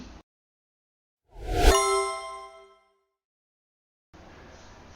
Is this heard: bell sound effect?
yes